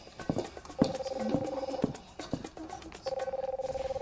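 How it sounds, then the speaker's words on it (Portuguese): An intercom buzzes in a house with repeated electronic tones, a sustained ring in the middle and another pulsing ring at the end, interrupted by soft clicks and movement. "Ó, o interfone."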